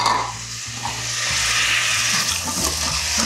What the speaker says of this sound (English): I think my olive oil is hot enough now, so I'm gonna go ahead and add, this is about a cup each of yellow onion and diced celery